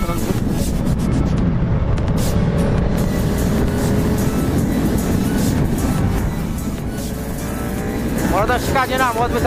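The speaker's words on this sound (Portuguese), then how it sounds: "Bora dar uma esticadinha na moto, ver se ela tá andando." A freshly repainted motorcycle ridden at speed on a road, its engine droning steadily under heavy wind buffeting, with a brief voice near the end.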